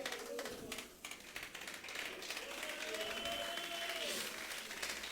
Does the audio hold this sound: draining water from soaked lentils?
no